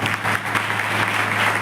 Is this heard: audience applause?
yes